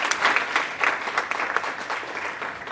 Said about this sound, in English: Let's give Dean Joanna Gomez a round of applause